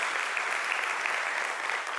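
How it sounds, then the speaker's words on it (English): Steady round of audience applause at a tech conference talk, AxonIQ Con 2023, sustained evenly for two seconds with no voices over it. "I'd like to ask for one more round of applause for Tom"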